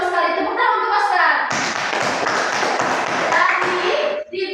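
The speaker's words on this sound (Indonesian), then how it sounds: "Tepuk tangan untuk Oscar." A first-grade class claps for a pupil during a primary school maths lesson, a burst of close, dense hand clapping that starts after a child's speech and runs for about three seconds before stopping abruptly.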